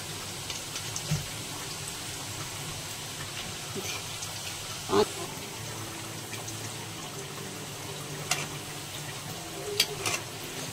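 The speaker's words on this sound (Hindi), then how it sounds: "थोड़ा सा धीमे तेल में ऐसे हम डाल देते हैं" Pastries sizzle gently in low-heat oil in a home kitchen kadhai, a steady crackling fry with occasional louder pops and bubbling bursts, no talk over it.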